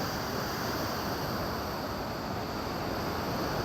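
Floodwater rushes through two or three raised gates of the Mallavaram project dam during heavy rain, a steady loud broadband roar with no breaks and no talk.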